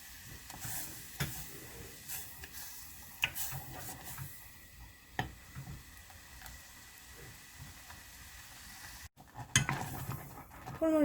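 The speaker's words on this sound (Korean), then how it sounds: "이렇게 저어주면서 한번 펄펄 끓여주세요" Glutinous rice paste boiling in a pot while being stirred, giving soft scraping and clinking of the utensil against the pot over a low bubbling bed, with a few sharper knocks near the end.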